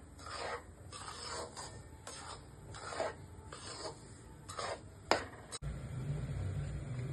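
Semolina roasting in cow's-milk ghee for sheera, heard as a quiet, repeated rasping scrape of a spoon stirring the grains in the pan, with a soft low sizzle underneath.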